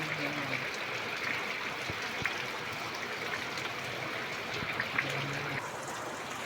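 Heavy morning rain pours with water running and trickling nearby, a steady rushing stream broken by occasional splashes and drips, with faint voices in the background.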